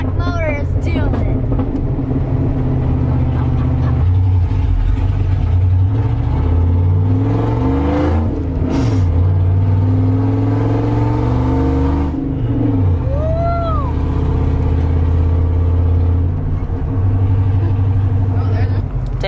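A second-generation Dodge Ram pickup with the 318 5.2L V8 revs loudly through its exhaust, the engine swelling and falling in repeated throttle blips over a steady rumbling idle, close up and without talk.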